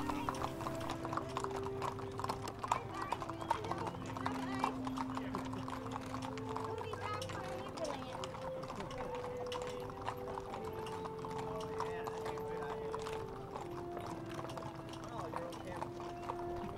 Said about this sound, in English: They were followed by several horse-drawn carts with some drivers in period costume.